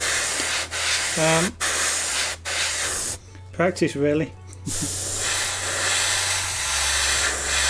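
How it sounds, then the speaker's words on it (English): A steady hissing airbrush spray of white paint onto a Tamiya Volvo FH12 1/14 scale RC truck model runs throughout, broken briefly by a few short spoken words near the middle. "I do paint using an airbrush."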